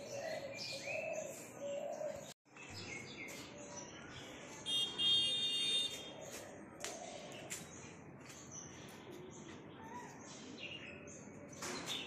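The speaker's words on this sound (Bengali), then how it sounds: "পাখি উঠছে একটা মন্দিরের পতাকা ওইদিকে বসলো এখানে" Pigeons coo and other birds chirp around a temple courtyard at Gouranga Bari in Katwa, a fairly faint, steady outdoor chorus with one brief dropout midway.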